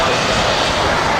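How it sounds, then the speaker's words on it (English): A TUI Fly Boeing 737 taxis in at a windy Manchester Airport, its jet engines giving a loud, steady roar. A voice talks over the engine noise. "There's that TUI Fly 737 taxiing in."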